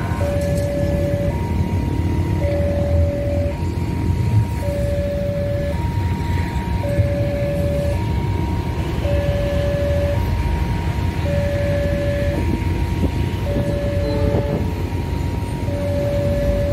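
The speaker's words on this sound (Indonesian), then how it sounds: "Ini kereta ketel telah lewat di depan kita." A tank wagon train, with cars built for up to 30 tons and in service since 1965, rumbles past a railway level crossing while the crossing's alternating warning bell tones repeat steadily over the loud, continuous rolling noise.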